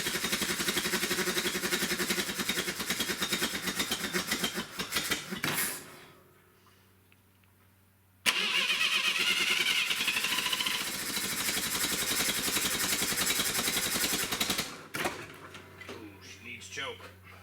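A Clark forklift's starter motor cranks the engine in two loud, steady bursts of several seconds each, with a short quiet gap between them and a brief lull after, heard close up.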